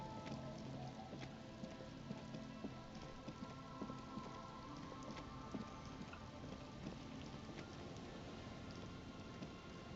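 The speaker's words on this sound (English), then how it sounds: "It's getting late, and it's raining." Steady rain falls continuously in the video game Disco Elysium, a dense even hiss with scattered drop patters and a faint low rumble underneath, moderately loud and with no talking.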